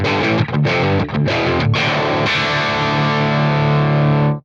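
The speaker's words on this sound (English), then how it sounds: "These super powerful power chords, 3 strings, 1 finger" Heavily distorted electric guitar in drop D tuning plays power chords, several short chopped strikes followed by one long, loud ringing chord that cuts off abruptly.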